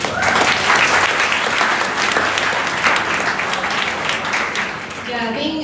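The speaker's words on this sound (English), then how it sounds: "give a round of applause to all the mothers in the room" Dense, steady applause from a large room audience at a weight-management graduation event, loud and continuous throughout before tapering slightly at the end.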